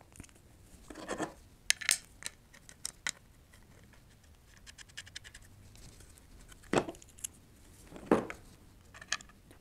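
Small plastic handles are fastened to an acrylic router sled plate with quarter-inch screws. The sounds are sparse: light clicks, scrapes and rubbing of hardware on acrylic, coming in short irregular bursts with quiet gaps between them.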